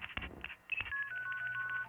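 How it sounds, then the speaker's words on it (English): Telephone dialing tones used as a sound element in a pop production, a quick run of short keypad beeps followed by a sustained steady tone, fairly quiet. "Just phone noises"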